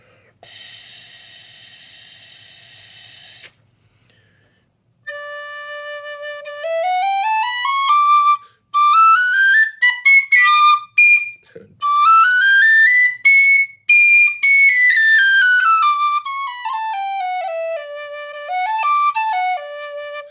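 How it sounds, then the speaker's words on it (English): A Mazur tin whistle plays a sliding, ornamented melody in bright, piercing tones after a brief burst of breathy hiss, with short pauses between phrases. "And here's the Mazur whistle for comparison"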